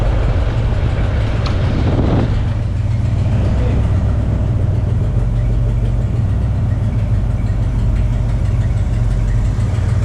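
A steady, loud truck engine, a square-body dually, idles with a constant low rumble throughout, unchanging and close by.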